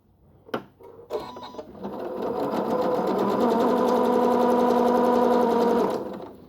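A sewing machine stitches twin-needle pintucks after a few handling clicks. It runs in a steady, rapid, close-up whirring rhythm for about four seconds before stopping.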